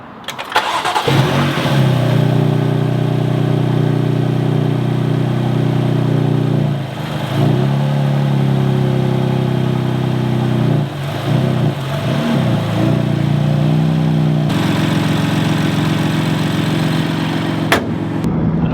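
A BMW F8x S55 engine with an ARM intake cranks and fires up, then settles into a loud idle broken by several quick blips of the throttle, heard up close with no talking.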